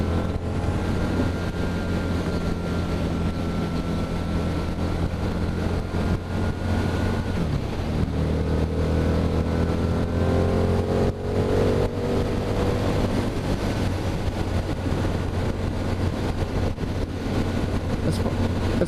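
A 2013 Harley-Davidson Night Rod Special motorcycle rumbles steadily on the road, its low engine drone rising and falling through shifts beneath constant wind buffeting.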